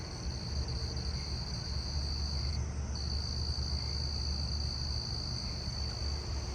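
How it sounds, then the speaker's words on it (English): A southeastern field cricket chirps within a dense, steady outdoor insect chorus, a high continuous trill with a brief gap partway through, moderately distant and no talking. "Well, there is a southeastern field cricket over here."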